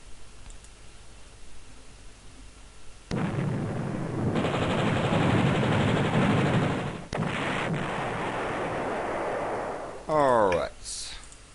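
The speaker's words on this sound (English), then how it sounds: "So now we'll shell this city." Artillery shells a city in the game Panzer General, a sudden loud burst of rumbling blasts that sustains for several seconds, cuts briefly, resumes, then ends with a sharp final shot, following quiet background.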